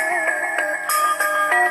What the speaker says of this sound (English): So that's the phone sound right now.